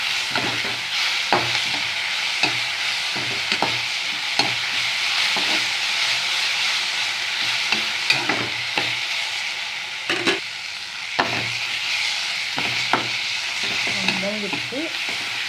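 Mudakathan greens sauté over a low flame, a constant sizzle with periodic scraping strokes of a spatula through the pan, close and steady for the whole stretch.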